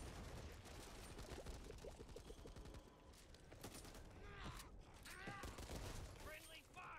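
Rapid bursts of gunfire in the zombie shooter Back 4 Blood, dense rattling volleys that thin out into scattered shots, with player voices and game effects mixed in.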